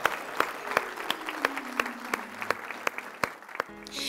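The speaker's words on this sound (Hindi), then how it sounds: "जोरदार तालियों से स्वागत कीजिएगा सोन रूपा विशाल का।" A loud welcoming round of applause from an audience at a Hindi poetry and literature event, greeting poet Sonroopa Vishal: sparse but firm clapping with sharp, distinct hand claps that thin out toward the end.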